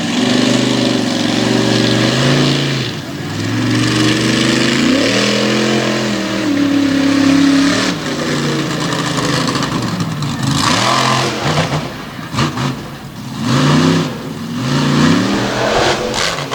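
An off-road racing truck at a 2021 Outlaws event in Canfield, Ohio revs loud and close, its engine pitch surging and dropping repeatedly as it launches over jumps, with no voices over it.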